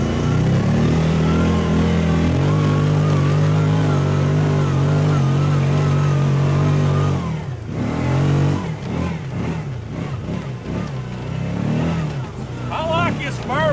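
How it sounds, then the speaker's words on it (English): Big quadrajet 4-barrel V8 engine on an off-road vehicle, steady loud drone climbing a steep trail, then surging and revving unevenly toward the end, with someone talking over it. "I'll show you what this big quadrajet 4-barrel is like when you hear her open up here in a minute."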